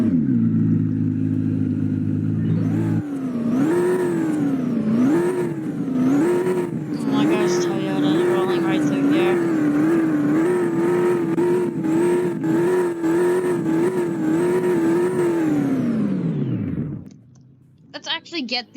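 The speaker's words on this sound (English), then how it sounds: "we're gonna rev the nice thing here" A Ferrari LaFerrari at a Southwest Florida car show revs loudly and up close, its engine climbing and dropping in repeated rhythmic blips over a steady idle before cutting off, with brief voices nearby.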